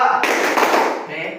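A classroom of children claps together in a clapping game, a dense burst of many hands close by, with voices mixed in throughout.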